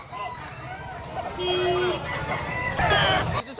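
A young rooster, a stag, crows loudly and close at a busy Malabon street market, its drawn-out call carrying over a constant murmur of crowd noise and clucking.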